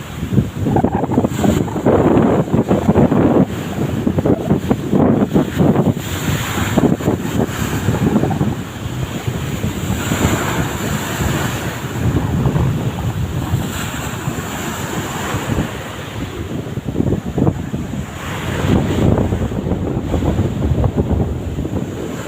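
Sea waves rolling onto the shore at San Joaquin, a steady loud surf roar with strong wind buffeting the microphone, no voices.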